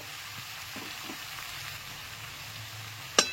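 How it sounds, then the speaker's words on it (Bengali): Mixed fresh winter vegetables are stirred with a spatula in a pan, giving a faint, steady sizzle with a few soft scraping strokes and a sharp clink near the end, with no talk. "এবার খুন্তি দিয়ে একটু নাড়াচাড়া করে নিচ্ছি।"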